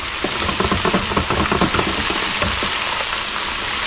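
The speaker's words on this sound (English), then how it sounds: "let's fry in some remora" Remora fish fry in hot oil with a steady, close sizzle, broken by crackling pops early on and settling into an even hiss.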